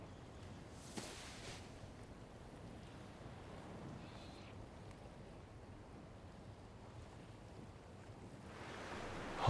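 Steady wash of sea surf and wind rolling onto a beach, a continuous low roar with gusty microphone buffeting and a louder swell rising at the end.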